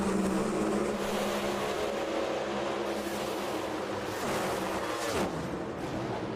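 Pro Mod drag race cars roar down the strip at Zmax at an NHRA event: a distant, sustained engine roar mixed with crowd and ambient wash, fading near the end.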